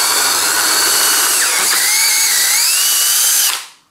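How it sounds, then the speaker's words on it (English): A loud power drill bores a hole with an 8 mm bit through the back of an older bicycle frame, widening it for a recessed brake nut; steady whining, pitch dipping as the bit bites, then spinning down abruptly. "I'm going to use an 8 millimeter bit here"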